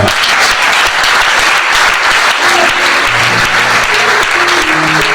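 A church congregation at a deliverance and healing service bursts into loud, sustained applause and cheering that fills the room continuously, with a few voices rising above the dense clapping.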